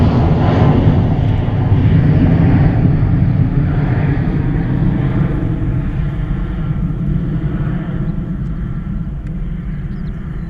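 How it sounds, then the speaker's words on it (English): An airliner takes off at Bristol Airport in a heatwave, rotating early and climbing steeply, its engines a loud, steady roar that slowly fades as it climbs away. "Wow, that used absolutely no runway at all. What a early rotation and steep climb that was."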